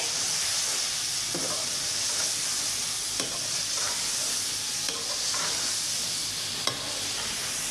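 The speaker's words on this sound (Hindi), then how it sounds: "अब मसालों को 1-2 मिनट के लिए भूनेंगे पहले।" Spices sizzling in hot oil for achar gosht, a steady bright frying hiss with occasional soft scrapes of a spoon stirring the pan, close and alone without talk.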